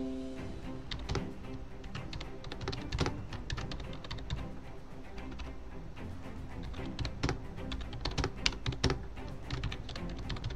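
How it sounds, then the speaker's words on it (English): Rapid typing on a computer keyboard, a close, fairly quiet stream of irregular clicks and key taps in short flurries with brief pauses, over a faint steady background hum and no talk. "My typing skills could be better, but it's okay."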